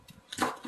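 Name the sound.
knife chopping onion on cutting board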